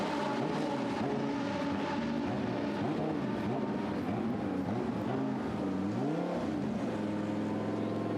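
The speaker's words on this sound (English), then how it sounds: "Engine is running. Revs rise, revs fall, revs rise." A Lamborghini Super Trofeo race car engine revs in the pit lane at the Nürburgring, loud and close, its pitch rising and falling again and again, with the driver held before release.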